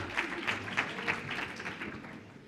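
Applause from a conference audience at an agrivoltaics industry talk, a steady wash of many hands clapping at moderate distance, sustained evenly throughout with no voices over it.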